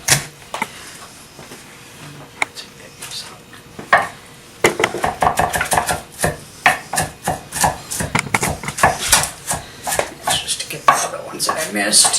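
Kitchen knife dicing onions on a cutting board, a run of quick, sharp chopping taps that starts sparse and becomes dense and steady, close and fairly loud, with a faint voice early on.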